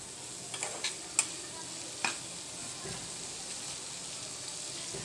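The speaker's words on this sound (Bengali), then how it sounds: "এখন এই মশলার সাথে ভালো করে নেড়ে আমি কষিয়ে নেব।" Dried fish being stirred and fried with spices in an oiled pan, a close, continuous sizzle broken by several sharp scraping clinks of the spatula early on.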